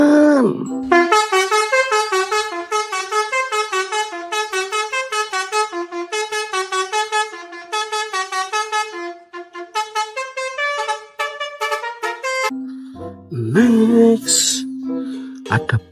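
A tour bus sounds a loud, close musical horn, playing a series of short, pulsing melodic phrases in rapid rhythm for roughly twelve seconds, with brief gaps between bursts and a low tone before and after.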